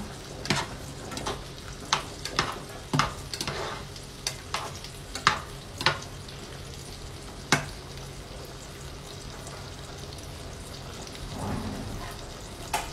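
Pasta and shrimp cook together in a pan for a tomato pasta, giving a low steady sizzle punctuated by a series of sharp clicks and taps from utensils, with no voices.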